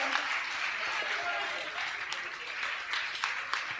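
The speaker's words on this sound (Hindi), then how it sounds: "उसके लिए अच्छी तालियां बजाओ सब" Applause from an audience at a Jain recitation of the Tattvartha Sutra during the Daslakshan festival, a steady wash of clapping lasting the whole stretch at moderate level, with some chatter underneath.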